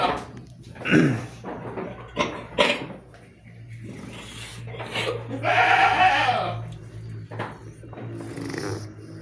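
Peranakan Etawa goats bleat several times nearby on a goat farm in Ngebel, one long wavering cry standing out, amid shuffling, knocks and occasional voices.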